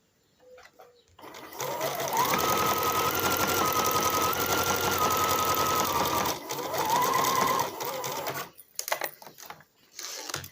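Sewing machine running steadily while elastic is stretched and stitched onto fabric for a small panty, a long continuous whirring run with a brief pause and short second burst, close and loud, no talking.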